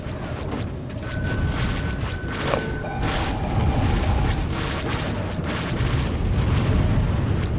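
A missile blast in the space combat game SWTOR Galactic Starfighter rumbles through a dense, roaring wash of engine and explosion noise that stays loud and steady throughout.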